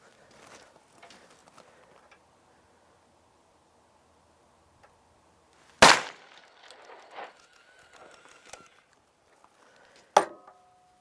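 Freedom Arms .454 Casull revolver firing stout loads from a rest, two sharp, loud, isolated blasts several seconds apart, with quiet handling clicks and rustles in between.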